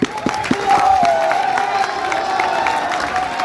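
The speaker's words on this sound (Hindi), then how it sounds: "बोले थे ना ताली नहीं बजाना है" A crowd at a Bihar political rally claps and cheers, with a steady wash of applause and scattered whoops and shouts throughout, a loudspeaker voice faintly present behind it.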